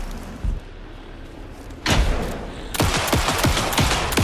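Gunfire during a boss fight in the Alan Wake 2 video game: a loud burst of shots at the midpoint, then a sustained rapid volley of repeated shots near and loud, with no talk.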